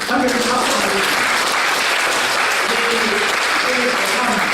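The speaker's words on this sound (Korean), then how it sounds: "함께 박수 보내겠습니다." Steady, dense applause from a church congregation at a combined cell-group worship service fills the room, loud and continuous, with faint speech mixed beneath it.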